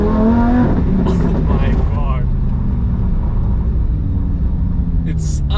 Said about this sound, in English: The downshifts are so aggressive.